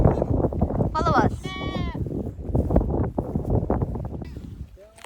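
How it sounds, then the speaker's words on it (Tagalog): Goats bleat along a mountain hiking trail, several wavering cries in quick succession near the start and another near the end, mixed with hikers talking and wind rumbling on the microphone. "Mga kambing."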